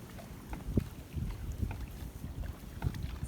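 A small sailboat leaving a sheltered beach and heading out into the wind, with gusting wind buffeting the microphone, soft water sloshing and occasional low knocks from the hull.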